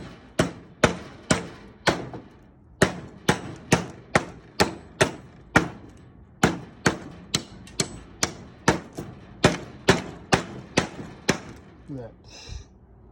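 Rapid series of sharp chopping thuds, about two per second, a Puzon Wilderness Bowie knife striking wood repeatedly at close range, without speech.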